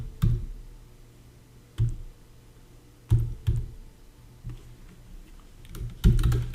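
Computer keyboard typing in the Notepad++ editor, a handful of distinct, fairly loud key clacks and small bursts spaced irregularly, close by with no talk.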